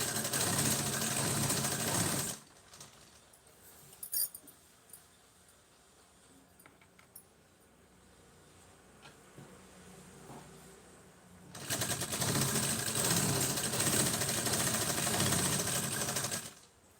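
An electric sewing machine stitches a fall onto a saree, two steady whirring runs of several seconds each, with a quiet stretch of soft handling noises and faint clicks between them.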